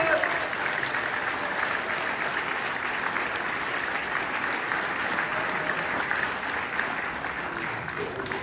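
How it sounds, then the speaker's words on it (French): Sustained applause from an indoor audience honoring a rescuer receiving a city medal, a dense, even clapping texture of many hands held at a steady moderate level throughout. "je crois qu'on peut l'applaudir"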